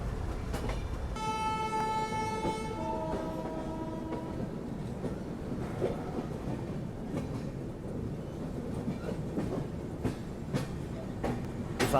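The Jhelum Express pulls out of Ambala Cantt station with a long two-tone horn blast, followed by a steady rumble and rhythmic clatter of wheels over rail joints, continuous and moderately near.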